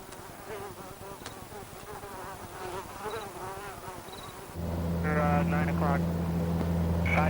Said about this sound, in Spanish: criadero para millones de hambrientos mosquitos que pronto incubarán e iniciarán su búsqueda de sangre para poder alimentarse